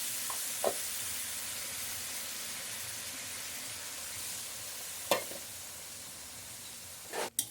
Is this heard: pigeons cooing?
no